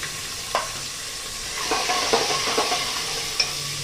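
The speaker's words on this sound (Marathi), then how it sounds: "आपण पहिल्यांदा कांदा परतवून घेऊया." Onion sautéing in a pan for Khandeshi masala khichdi: a steady sizzling hiss with scattered scrapes and taps of a stirring spoon, moderately close and without speech.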